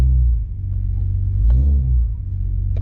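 An Acura/Honda V6 engine with a broken front engine mount, in drive with the brake held, gives a loud, close, low rumble that swells once as the throttle is pressed and then fades back to idle.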